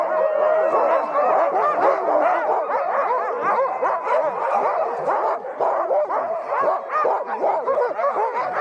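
A large pack of sled dogs waiting for a race start barks, yips and howls together in a dense, continuous, loud chorus, with no voices on top.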